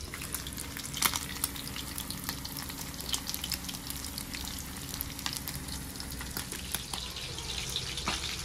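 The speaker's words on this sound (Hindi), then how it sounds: "हमारा मछली हो गया, देखो अच्छा सा फ्राई" Fish frying in a pan in a home kitchen gives a continuous close sizzle and crackle, with irregular sharper pops and spatters throughout and no talking.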